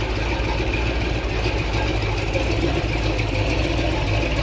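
A Chevy 350 small-block with a mild comp cam runs on an engine stand, giving a steady, loud, even idle rumble that holds unchanged throughout with no voices.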